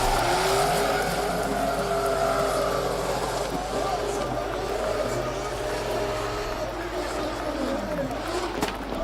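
Drift car tires squealing through a long slide at an international drift championship final, with the engine's drone underneath and an announcer talking over the noise.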